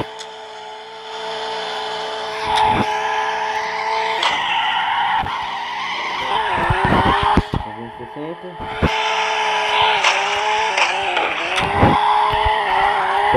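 Tires skid and squeal continuously while drifting a car in the video game CarX Drift, with engine roar throughout and repeated sharp clicks.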